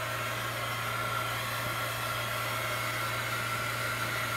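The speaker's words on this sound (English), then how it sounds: "I'm going to use my heat gun and dry this." A heat gun blows steadily over an art journal page, a constant loud airy roar with a low electric hum underneath and no pauses.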